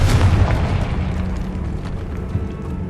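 A Confringo fire spell bursts in Hogwarts Legacy on Xbox Series X, a loud booming blast at the start whose rumble trails off over the next few seconds, with no voices.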